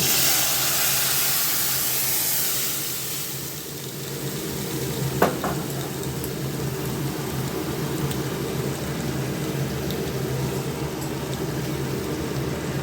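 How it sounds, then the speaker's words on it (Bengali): Dal hits a hot pan of reddened tempering spices with a loud sizzling hiss that gradually settles into a steady, quieter bubbling sizzle, with one brief metallic clink of a utensil partway through, close up and without speech. "এখন আমি এটার মধ্যে ডালটা ঢেলে দেব।"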